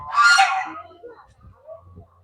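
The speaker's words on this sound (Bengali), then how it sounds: "রাজহাঁস রয়েছে অনেকগুলো রাজহাঁস রয়েছে জালের ভেতরে" Several geese penned inside a net enclosure let out one loud, harsh burst of honking near the start, then only faint rustles and low sounds follow.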